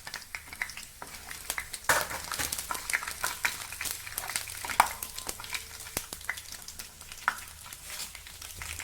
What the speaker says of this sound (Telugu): ఇప్పుడు ఆవాలు, జీలకర్ర కూడా వేసి ఫ్రై చేసుకోవాలి.